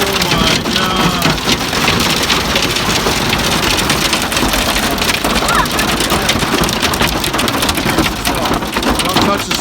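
Hail pelts a car during a fierce hailstorm, a loud relentless clatter of dense impacts on the body and roof, with rain and thunder mixed in throughout.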